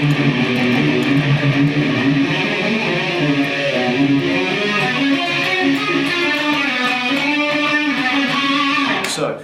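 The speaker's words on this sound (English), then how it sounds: "Alright, so now we're going to play the Phrygian major mode." A Phrygian major mode scale played as a continuous, loud, bright melodic line with gliding, ornamented notes over a steady sustained backing, running unbroken and fading out at the end, with no voices.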